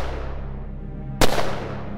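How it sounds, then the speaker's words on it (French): A single sharp gunshot cracks out loud and close, cutting abruptly through a low droning musical bed that continues afterward. "Des coups de feu qui déclenchent la guerre la plus meurtrière"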